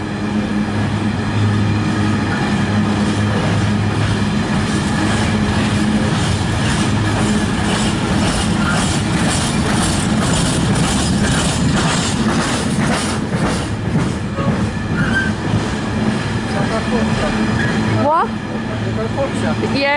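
New railway wagons roll past nearby with a continuous rumble and rhythmic clickety-clack, a faint wheel squeal near the end.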